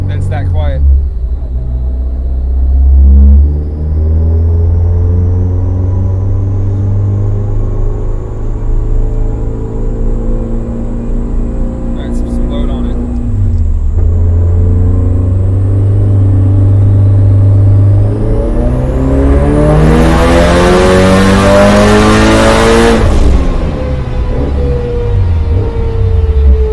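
A 2005 Subaru STi engine with a BW-S300 turbo hums at light throttle, a low steady drone with a faint rising whine, close and loud throughout, swelling briefly near the end.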